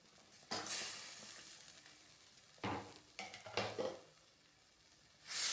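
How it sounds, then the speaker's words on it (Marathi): Methi dahi pithla being stirred in a pan, giving bursts of loud scraping and sizzling between quieter pauses, close up. "आता हे छान मिक्स करून घेऊया."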